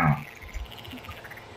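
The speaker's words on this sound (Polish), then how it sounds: "A te żaby tam..." Frogs croak in the Farming Simulator 19 game world, a faint rhythmic ambient chirping and croaking with no talk.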